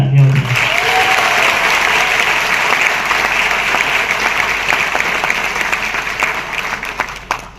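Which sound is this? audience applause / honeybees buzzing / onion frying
audience applause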